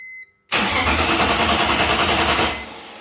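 A BMW E46 with a swapped Siemens MS43 engine computer cranks and fires at once, a loud, close engine roar with a steady pulsing rhythm holding for about two seconds before easing off.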